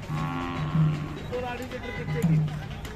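A Khillar cow at the Kharsundi cattle fair moos twice, close and loud, each low droning call about half a second long, with people talking nearby.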